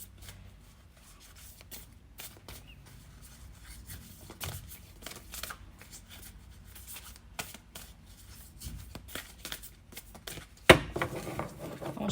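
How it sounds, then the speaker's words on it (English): Tarot cards are shuffled by hand close up, a run of soft riffling flicks and slides with small taps, quiet at first and building to a sharper burst near the end, no talk. "I'm gonna shuffle one more."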